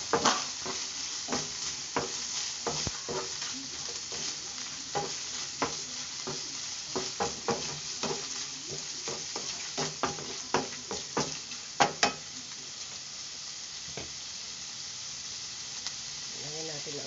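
Butter sizzling in a pan with boiled ground meat, a steady close hiss broken by frequent clicks and scrapes of stirring, with a louder burst of crackles near the end.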